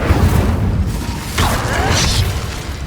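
Incendio fire spell cast in the Hogwarts Legacy video game, a brief burst of whooshing flame and crackle that swells around the middle of the moment over a steady low rumble of game sound.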